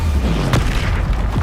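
Explosive Bombarda spell blast in Hogwarts Legacy combat, a loud low boom with a sharp burst midway through, over constant rumbling battle noise.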